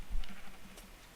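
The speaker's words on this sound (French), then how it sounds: "Des moutons!" Sheep in the Minecraft video game bleat once, a short wavering cry heard up close over a faint background.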